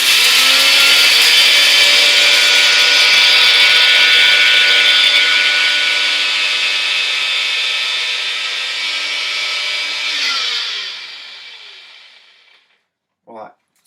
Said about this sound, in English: you can actually grind coffee down using a NutriBullet